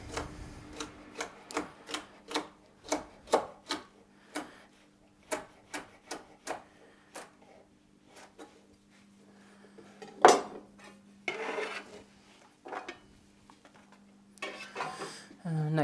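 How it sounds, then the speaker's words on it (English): A knife chops rhythmically on a cutting board, dicing strips into small cubes for salsa and pasta: a quick run of crisp, evenly spaced taps, then slower scattered cuts and a few louder knocks, all close up with no talk. "And then cut across for nice little cubes for my salsa, pasta, and the like."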